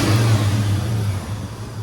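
A 1985 Chevy C10 square-body 4x4 with an LS engine swap and aftermarket exhaust revs loudly up close, a deep steady engine note that eases off toward the end of the brief burst.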